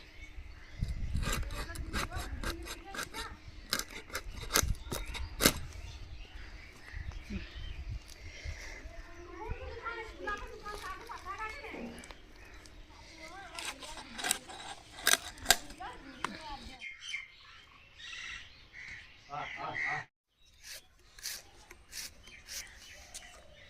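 Duck meat being cut for a village-style curry, with repeated rubbing, scraping knife strokes and sharp cutting clicks close by, the activity continuing steadily then thinning out near the end.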